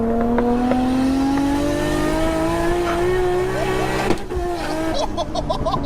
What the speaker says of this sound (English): Was that a fireball pop when I heard him do that upshift?